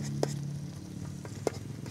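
Noodles with egg cooking on a camp stove on a cold, foggy mountain morning: a steady low sizzle and bubbling simmer with two brief sharp clinks of a utensil against the pot, close and moderately quiet.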